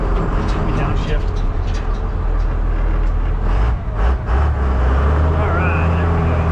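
A farm vehicle's engine drones low and steady after a downshift during soybean harvest, its pitch shifting lower midway, with a person talking over it.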